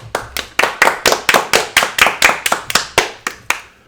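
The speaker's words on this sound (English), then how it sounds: "We clapped?" Two hosts clap their hands in a quick rhythm, about fourteen sharp, loud, close claps evenly spaced, then silence.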